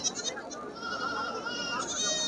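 Goats, including mothers and kids, bleat repeatedly at the Kaitla goat market in Bangladesh, with layered calls over a steady crowd murmur.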